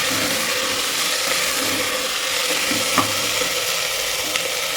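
Tomato, potato and other stew ingredients are stirred together in a pan, making a loud, steady sizzling hiss with faint scraping strokes and a small clink near the middle.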